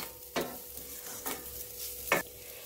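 Drumstick leaf and egg thoran is stirred in a pan, with three scraping strokes of the spoon spaced about a second apart over a faint, continuous sizzle.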